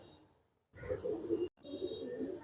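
A male pigeon coos close by in two throaty, rolling phrases separated by a brief pause, with no other sound around it.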